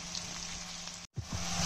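Two finely chopped onions sautéing in a pan over cinnamon and curry leaves, for a drumstick prawn gravy: a steady, close frying hiss that cuts out briefly and then resumes with a few soft stirring knocks.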